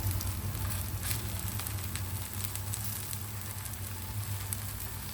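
A jowar (sorghum flour) dosa sizzles steadily on a hot pan with oil poured around its edges, a continuous close crackle and hiss with no one talking.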